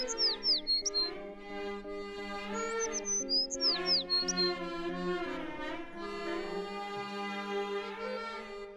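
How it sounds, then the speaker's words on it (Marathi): Birds squawk and chirp in a series of sharp, high calls over steady background music, loud and close at first and then continuing more faintly behind the music. "तो बघा पक्षी."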